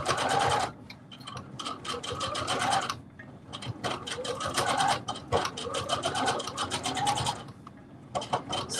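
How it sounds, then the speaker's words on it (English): A sewing machine stitches a hat through layers of interfacing, buzzing in several close, loud bursts separated by short pauses. "It's just because I'm sewing on all of this interfacing."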